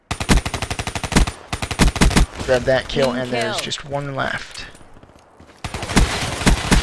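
Rapid automatic gunshots in a video game shooter, firing in loud close bursts at the start and end with a spoken commentary voice in between.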